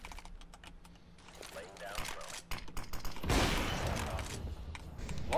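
Gunfire in the video game Counter-Strike: Global Offensive, a burst of sharp shots building into a dense volley, mixed with rapid keyboard typing and clicking throughout.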